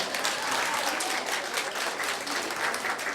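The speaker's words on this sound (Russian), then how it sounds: "Давайте, я хочу услышать ваши аплодисменты." Steady, dense applause from a large audience, continuous clapping at an even loudness throughout with no pauses.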